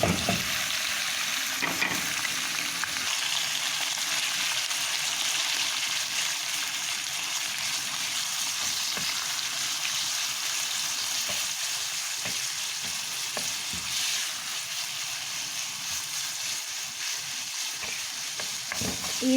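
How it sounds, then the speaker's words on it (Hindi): Minced meat (keema) sizzling and frying steadily in a hot pan for a keema macaroni dish, a continuous bright crackle with occasional stirring scrapes, close and alone without talk. "अब कीमा डालेंगे।"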